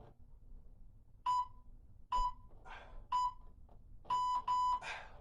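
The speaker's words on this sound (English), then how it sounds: "Listen out for the buzzer" A sharp electronic buzzer beeps several times at uneven intervals, loud against a quiet background, with a double beep near the end.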